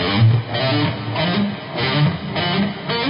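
A guitar plays a quick picked triplet exercise out of time, with uneven, rushed and dragging notes, the rhythm stumbling instead of holding steady.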